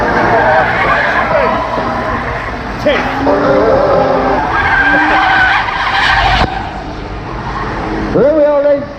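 A big BMW spins out at a race circuit, tires skidding and squealing loudly in long howling sweeps over engine noise, with a commentator talking throughout.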